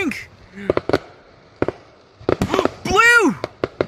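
Fireworks explode on a fireworks night, several sharp bangs and crackles scattered irregularly, some close and loud, while a child exclaims excitedly over them.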